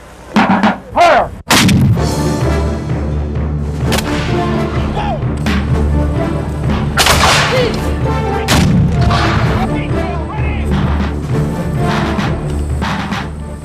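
Cannon and rifle fire at a Civil War battle reenactment, a few loud booming blasts up front, then a sustained, dense roar of gunfire with repeated sharp reports continuing throughout.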